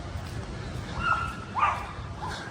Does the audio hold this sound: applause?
no